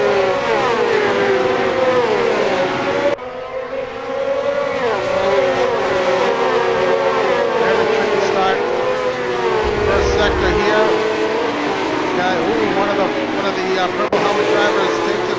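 Several 1967 Ferrari 312 race cars in a racing video game launch from the start at the Nordschleife, their engines droning loudly and continuously with shifting pitch, under steady race commentary.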